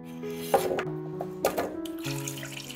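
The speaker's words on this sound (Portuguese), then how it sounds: "Coloque água até cobrir" Water from a tap runs into a pot of potatoes in a home kitchen, a steady splashing flow with a couple of louder surges, heard alone beneath a sustained tonal background.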